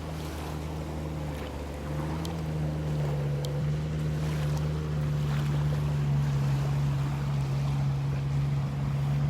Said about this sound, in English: Jet ski.